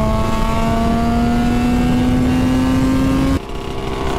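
A Suzuki RG500 two-stroke motorcycle engine revs loud and close, its pitch climbing steadily before it drops off abruptly near the end, with no talk.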